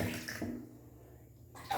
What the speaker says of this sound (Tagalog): Ako ning hugasan guys og tubig